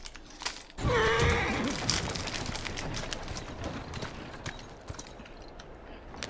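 Horse hooves clip-clop at an easy pace in the video game Assassin's Creed Syndicate, a steady nearby rhythm over faint background ambience.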